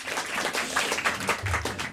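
An audience applauds an assistant at a French television show, a dense, steady patter of many hands clapping for about two seconds, close and even, with no speech over it.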